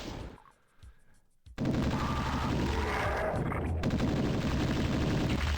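Dense, continuous gunfire from Doom's Obituary map set, a loud sustained burst of rapid shots after a quieter opening second and a half, with no talking.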